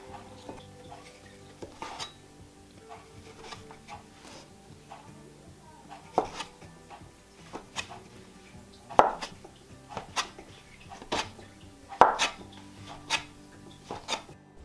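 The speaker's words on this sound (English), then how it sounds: "So I'm gonna get this rolled out into long logs and then cut" Knife chopping through rolled logs of homemade potato dough on a board, giving scattered sharp cuts around six to twelve seconds amid soft kitchen handling noise, close and moderately loud.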